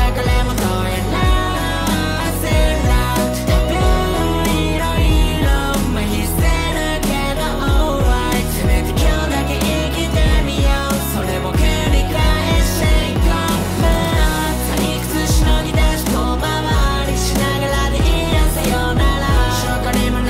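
Full-band pop-rock song plays loud and continuous, with dense driving drums, bass and guitars throughout and no talking over it.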